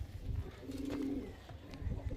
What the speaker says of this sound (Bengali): এটা হচ্ছে অরিজিনাল কেরালার পায়রা